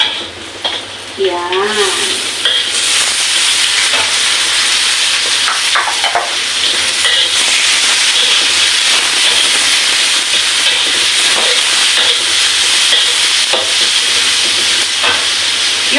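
Tomatoes drop into a sizzling pan for mung bean stew with chicken, producing a continuous loud frying hiss with stirring scrapes, while a voice speaks briefly at the start.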